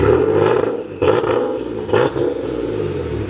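A Nissan 370Z NISMO with a swapped-in 2JZ engine revs hard nearby, with several sharp throttle blips over a deep idling rumble.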